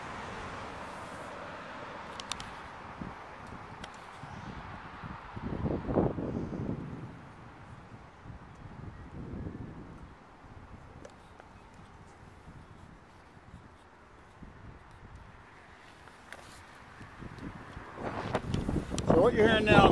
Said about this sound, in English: What you're hearing now is the wind.